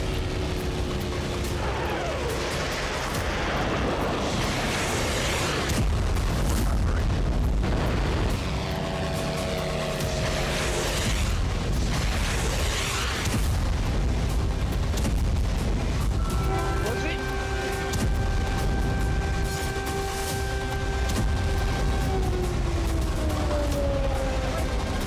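Repeated booms and blasts echo during Ukrainian attacks amid air-raid sirens, a dense rumbling barrage with rising and falling siren tones joining partway through, loud and continuous throughout.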